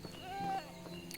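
A single short sheep bleat in the farming game Medieval Dynasty, faint and wavering over low background ambience.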